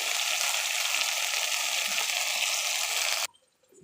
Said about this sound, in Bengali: লোটেগুলো ভাঙেনি, গোটা গোটা করে ভাজা হচ্ছে।